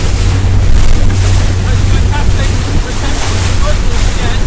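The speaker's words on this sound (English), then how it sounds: "We've got a noisy outboard here." A loud outboard motor on a boat drones steadily close by, mixed with wind buffeting and rushing water, with a voice faintly present under the noise.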